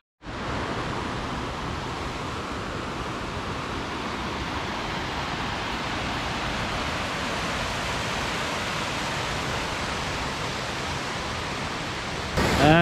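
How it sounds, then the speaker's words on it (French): Mountain waterfalls cascade in a steady, broad rushing roar that holds evenly and loudly throughout, with no voices over it. "Ah, les belles cascades."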